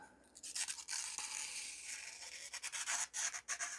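A dull knife dragged through a sheet of paper, catching as it cuts, giving close, raspy rubbing strokes in short uneven bursts.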